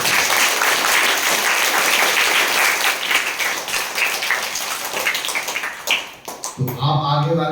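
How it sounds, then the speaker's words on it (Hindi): Students in an inclusive primary classroom clap loudly together in a dense, sustained round of applause that fades near the end as a voice starts speaking. "आप एक बार जोरदार ताली"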